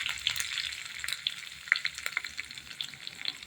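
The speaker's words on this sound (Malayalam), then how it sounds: "അപ്പോൾ കുറച്ച് വറ്റൽമുളക് ഇട്ട് കൊടുക്കാം." Dried red chillies crackle and sizzle in hot oil for rasam, a steady bright frying hiss dotted with sharp pops and spits, close and fairly soft, with no voices.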